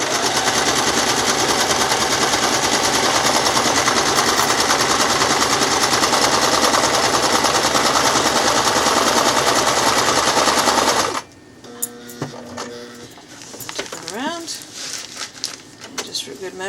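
A sewing machine runs a zigzag stitch with dark thread along the edge of fabric for a book weight, making a loud, continuous rapid chatter for about eleven seconds before stopping, then quieter handling noises follow.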